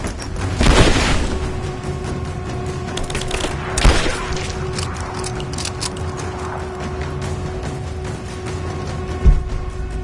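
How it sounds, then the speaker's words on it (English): A grenade explodes during combat in Rise of the Tomb Raider. A loud blast booms early on, followed by rumbling aftermath, a smaller thud midway and another bang near the end over steady background noise. "Grenade out!"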